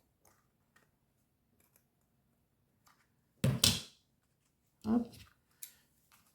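Scissors snip through a folded container for a Christmas lotto prize, giving two loud, close cutting bursts with a few lighter clicks around them and a brief spoken word.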